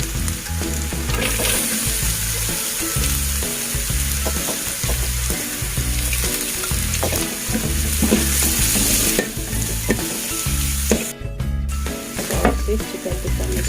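Carrots stir-fried in a pan for rice vermicelli noodles, with a steady close sizzle and repeated rhythmic scraping and stirring strokes running throughout, with no talking.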